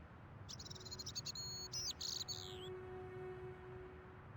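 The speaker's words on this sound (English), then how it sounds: "Just with the birds, it makes it really peaceful." Birds chirp in a calm autumn cafe ambience from the Broken Sword: Shadow of the Templars video game, with quick high bird calls clustered early on over a soft, steady background hum.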